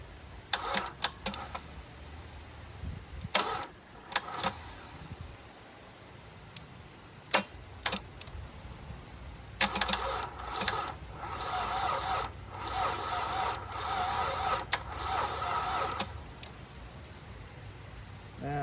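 An abandoned car that has sat for years cranks over on a weak battery, the starter whirring in several bursts of uneven length separated by pauses and clicks, close by.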